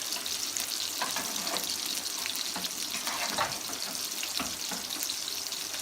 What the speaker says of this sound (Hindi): अब इसको अच्छे तरीके से हम मिक्स कर लेते हैं।